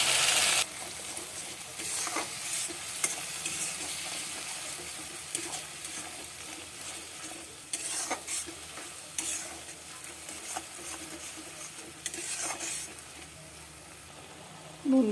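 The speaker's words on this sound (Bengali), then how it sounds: "এবার পুদিনা পাতা বাটাটা দিয়ে দিচ্ছি।" Ground mint leaf paste fries in a pan with salt and lemon, a soft sizzle broken by several bursts of spatula stirring and scraping over about fifteen seconds, close and without voices.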